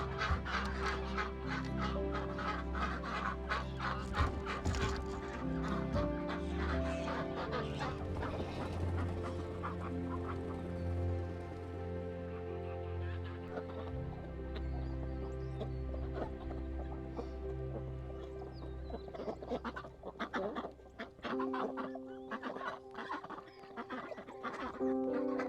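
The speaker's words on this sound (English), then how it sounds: "Okay, let's unleash the ducks." Excited ducks are let out of their pen, with a busy stream of quacking and other fowl calls overlapping throughout. The calls are close and continuous, thinning out a little near the end.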